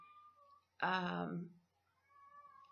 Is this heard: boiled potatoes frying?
no